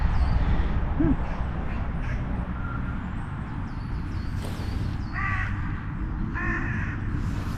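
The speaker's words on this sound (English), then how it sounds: "See, we have 2 pigeons in the foreground, 2 magpies in the background, 2 more pigeons over there." Magpies and pigeons squabble outdoors in a London park, with harsh chattering calls and a few short bursts over steady background hum of city traffic.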